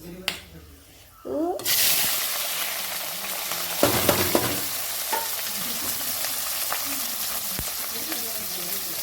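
Whole spices such as black pepper crackle and sizzle in hot oil in a pan while chicken is being cooked, a dense close frying hiss with sharp pops and a few stirring scrapes, someone speaking briefly over it.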